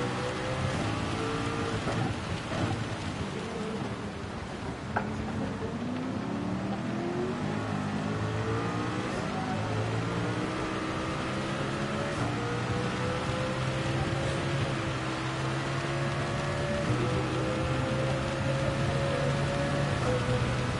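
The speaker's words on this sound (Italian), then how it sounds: "Madonna, come piove!" Heavy rain and rolling thunder during a race at the Nürburgring in the video game Gran Turismo 7, a constant loud downpour under the rising and falling drone of a car engine, with no talk.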